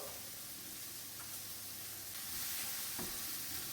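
Minced garlic sautéing in a pan with olive oil, a steady soft sizzle with a few faint stirring scrapes, quiet and close with no voices.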